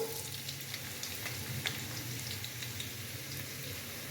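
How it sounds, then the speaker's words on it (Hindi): Finely chopped onions fry in hot oil in a pan, a steady, moderate sizzle with faint crackles and a low background hum; no speech. "अभी मैं इसके अंदर प्याज डालूंगा।"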